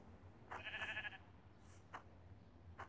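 A sheep in the Minecraft video game bleats once in a clear, wavering burst, followed by faint game clicks and footsteps over a quiet background.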